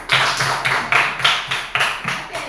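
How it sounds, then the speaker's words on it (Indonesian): A small group of schoolchildren in an elementary classroom claps for a group that has just presented, about eight loud, near, evenly spaced rhythmic claps in unison, alone without talk. "Tepuk tangan untuk kelompok"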